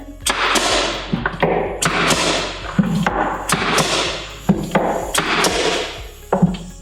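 Blind stapler shooting fasteners into a prefinished cabinet face frame, a series of sharp, loud close thuds and snaps, each with a brief ringing tail, spaced roughly every half second to second with no talking.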